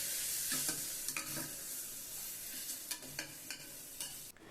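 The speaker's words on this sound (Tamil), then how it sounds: "மசாலா வாசனை போகிற வரை நல்லா வதக்கிக்கணும்." Steady sizzle of spices frying in a hot pan for rice and lentil dish, with occasional stirring scrapes and clicks of a spoon against the metal.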